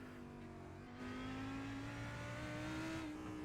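Lamborghini Huracan GT3 race car, number 12, running at Imola with a steady high-pitched engine note that rises slightly and grows louder after the first second, sustained without a break and with no talk over it.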